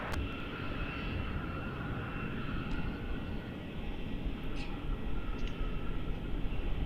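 A Delta jet airliner departs Melbourne Airport bound for Los Angeles, a broad distant engine roar rumbling steadily and building slightly toward the end, with a few faint clicks and no speech.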